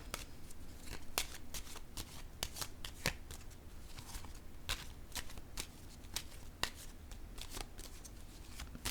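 Tarot cards handled and laid down on a table, a steady run of crisp snaps, flicks and soft slides repeating close to the microphone, with no voices.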